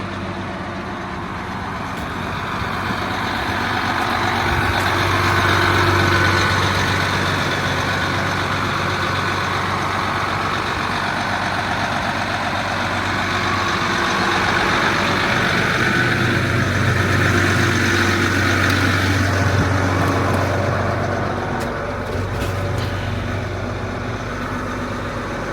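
A tractor engine idles steadily on its own, similar to a 7130 model and with a square hood, giving a continuous low rumble that swells slightly and then settles, with no talking.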